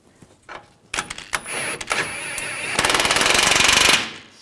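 Rapid mechanical rattling of a pneumatic impact wrench tightening a front lower control arm bolt on a 2013-2015 Chevrolet Malibu, several short bursts then one sustained hammering run, loud and close in a garage.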